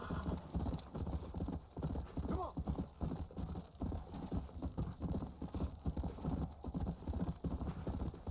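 Horse hooves clip-clopping in Red Dead Redemption: Undead Nightmare, a steady rapid beat of hoofbeats over game ambience, with someone talking over it throughout.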